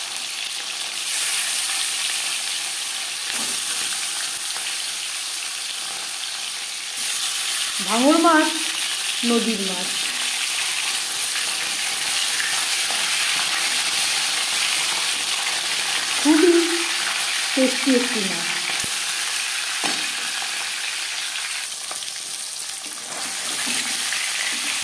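Marinated Bhangar river fish sizzles steadily in hot refined oil, a continuous broadband crackle running throughout with a few louder spits; a person speaks briefly over the frying.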